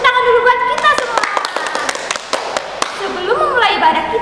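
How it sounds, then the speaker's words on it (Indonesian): Young children clapping their hands during a church service for preschool kids, a rapid scattering of sharp claps running through the moment while an adult voice and children's voices carry over the top. "Tepuk tangan dulu buat kita semua."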